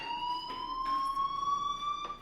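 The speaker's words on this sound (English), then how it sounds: "do you hear that fire alarm? That means you should be outside." Electronic fire alarm in the video game Life Is Strange, a steady high-pitched tone with harmonics ringing continuously and loudly, with faint pulsing beneath it and no talking.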